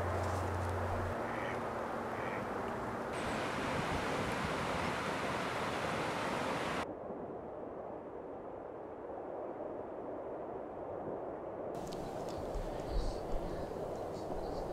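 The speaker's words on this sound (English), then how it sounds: "many waterfowl species flee to the Rockaway River" Waterfowl ducks quack on a calm pool of the Rockaway River in winter, the calls mixed into a steady wash of broadband water and wind noise that shifts partway through, with no voices.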